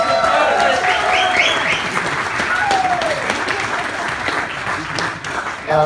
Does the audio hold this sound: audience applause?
yes